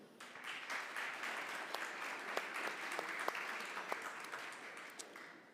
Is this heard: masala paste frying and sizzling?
no